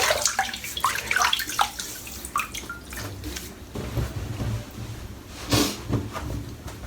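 Tap water running and splashing as a head is wetted before a shave, uneven trickles and splashes in a sink with a brief louder gush near the end, no voices.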